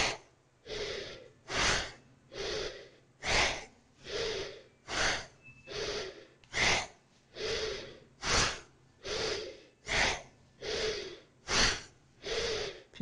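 Breath of fire during an intermediate yoga class: about fifteen forceful nasal exhalations in a steady rhythm, each a short loud puff followed by a brief pause, close and clear with no talking.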